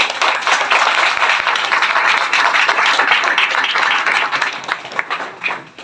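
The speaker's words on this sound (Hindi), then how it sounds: "जोरदार तालियां हो जाए दोबारा।" A training-session audience at a fitness products event claps loudly and steadily for about six seconds, dense sustained applause that tapers slightly at the end, with no voices over it.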